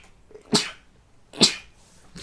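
Two sharp, close sneezes about a second apart, each a short burst of breathy noise, with a third beginning at the end in an otherwise quiet room.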